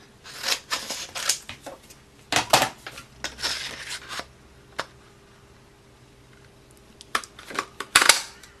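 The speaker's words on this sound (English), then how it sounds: "So let me grab my scissors." Scissors snipping through paper card for a handmade thanks card, a series of short crisp cuts and rustles close by, irregular bursts separated by quiet pauses.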